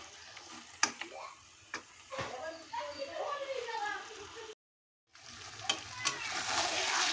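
Goat mutton stir-fried in a kadai over medium heat: a continuous close sizzle broken by sharp scraping clicks of a spatula against the pan, with a short silent gap and a voice under the cooking.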